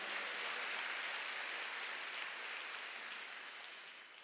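A church congregation claps during a Sunday worship service, producing a continuous, even wash of applause that fades slightly toward the end, with no voices over it.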